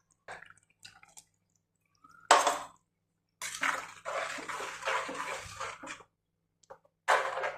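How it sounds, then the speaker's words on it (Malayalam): Running tap water rinsing a mixer grinder jar in a home kitchen, coming in separate splashing bursts broken by short silences, close and fairly soft. "ഒന്ന് മിക്സി കഴുകി വരട്ടെ"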